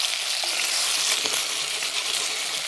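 Carrots sizzling gently in a pan over lowered heat, a steady soft crackle and hiss running close and even throughout, with no voices.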